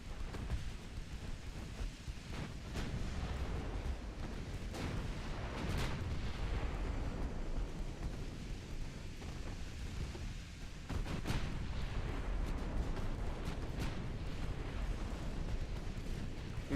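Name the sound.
battleship 13-inch naval guns firing, video game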